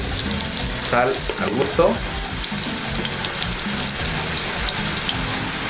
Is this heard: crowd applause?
no